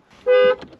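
A luxury 4x4's car horn gives one short, loud, steady honk lasting about a third of a second, close by, followed by faint murmuring.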